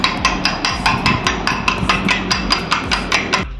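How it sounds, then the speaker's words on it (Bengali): A fork beats eggs seasoned with salt and pepper in a bowl for chicken cutlets, giving quick, regular, sharp clicks of about six per second, close and clear, with no talking. "ডিমটা গোলানো হয়ে গেছে"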